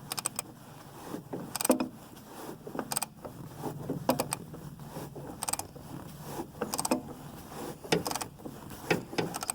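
A wrench works at the oil drain plug of a 2014 Chevy Cruze Diesel: close metallic clicks and ratcheting creaks come in short repeated bursts in a cramped space under the car, with no talking.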